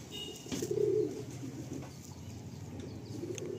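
Pigeons held for sale coo softly in a low, throaty burst, followed by fainter murmuring coos against a quiet room background, with no speech over them.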